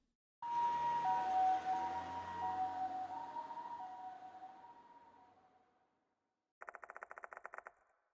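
In the video game Death Mark 2, an ambulance siren wails loudly, then fades away over several seconds. A short burst of rapid, stuttering beeps follows after a gap.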